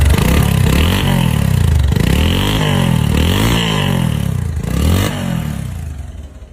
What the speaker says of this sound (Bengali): ইঞ্জিন কোয়ালিটির সাউন্ড